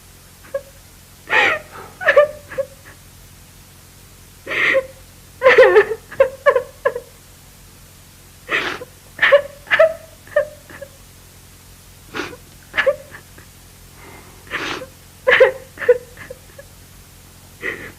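A woman cries and wails in a classic Pakistani TV drama, loud close sobbing bursts coming in repeated waves with short gasping pauses between them, alone without other speech.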